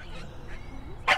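A dog gives a single short bark at the very end, after a moment of quiet low background noise.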